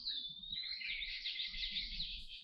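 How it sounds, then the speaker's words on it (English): Birds chirping and calling busily in an Ohio woodlot of black cherry, walnut, oak, hickory, ash and sugar maple, a continuous dense chorus of bright tweets close by with no talk. "But birds are really busy today."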